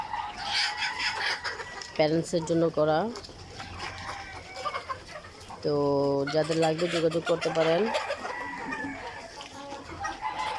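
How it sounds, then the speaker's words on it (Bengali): Original Egyptian Fayoumi chickens cluck and call in a poultry flock, with two loud, drawn-out crowing or squawking bursts standing out over steady background clucking. Someone talks throughout. "এই যে আমাদের মুরগিগুলো অরিজিনাল মিশরীয় ফার্মি মুরগি"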